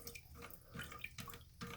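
Water running out of a disconnected toilet supply hose, a faint, irregular trickle and spatter with small drips repeating every few tenths of a second.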